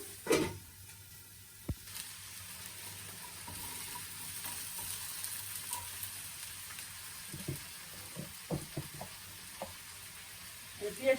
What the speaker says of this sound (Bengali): শাকটা ভাজা ভাজা হয়ে গেছে এই যে